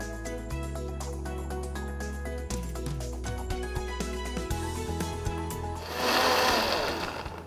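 A blender whirs steadily, mixing juice with lemon, cinnamon and ginger, its motor droning loud and even before shifting into a rougher, louder churning near the end.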